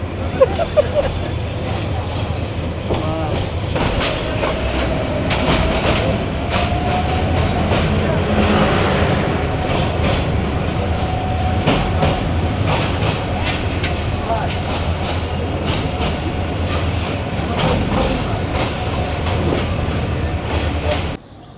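A train rumbles steadily along the tracks with rhythmic clacking, loud and continuous, while a faint murmur of voices sits underneath, arriving at Sylhet railway station on the Dhaka to Sylhet route.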